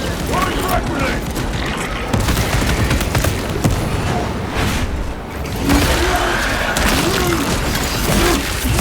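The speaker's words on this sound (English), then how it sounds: "Throwing frag grenade!" A frag grenade explodes in the video game Warhammer 40K Space Marine. The heavy boom is buried in dense, chaotic battle noise with gunfire and shouted voices throughout.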